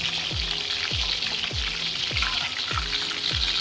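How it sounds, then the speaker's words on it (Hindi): Chicken kofta fry in hot oil, a steady close sizzle and crackle punctuated by regular low thumps, with no talking. "तो ये 7 से 8 मिनट में फ्राई हो गए हैं।"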